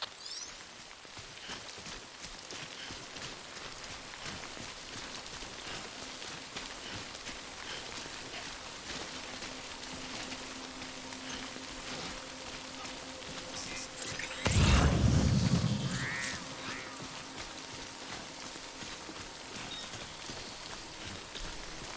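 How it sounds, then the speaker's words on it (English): Rain falls steadily in the video game Death Stranding, a constant soft patter across the whole span, with faint mechanical noises and a louder low rumbling surge near the end. "Good thing it was raining."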